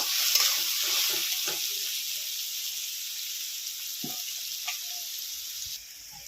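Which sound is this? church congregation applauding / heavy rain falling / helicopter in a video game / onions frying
onions frying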